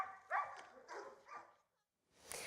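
Hunting dogs at an animal shelter in Brittany, France, give a few faint, scattered barks and yips from some distance. A short silence follows, then a brief burst of noise.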